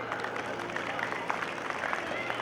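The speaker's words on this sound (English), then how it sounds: "Please clap." An audience at a school annual function claps through a prize announcement, scattered moderate applause under an announcer's voice.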